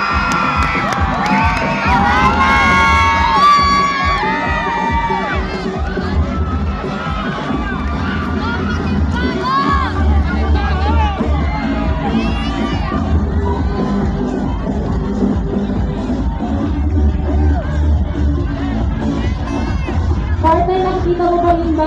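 A village crowd at a cheese festival stage show shouts, whoops and cheers loudly, with children's high voices and clapping in a dense, sustained roar, an announcer's voice cutting through at times.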